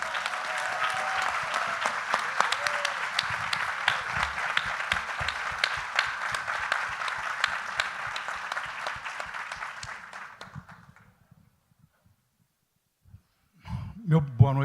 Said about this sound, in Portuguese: gostaria de pedir uma salva de palmas para o Carlos Alberto Richelli